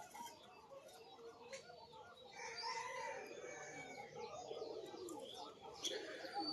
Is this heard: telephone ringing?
no